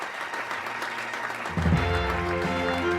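Applause from an audience swells suddenly partway through, a dense burst of clapping after a quieter stretch of murmuring room sound, with some tonal music-like elements underneath.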